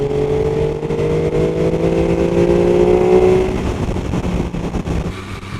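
An MV Agusta F3 800 triple-cylinder motorcycle engine revs up close, its pitch climbing through a sustained, deep, throaty wail before easing back into a rougher idle burble.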